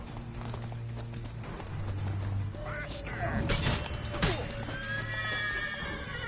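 A horse whinnies loudly in The Witcher 3, over soft hoof clip-clops and game ambience, with a few sharp impacts near the end.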